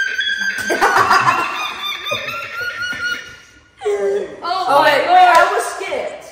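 A person imitates seagull calls, producing a run of squawking, laughing cries in two bursts with a short pause between them.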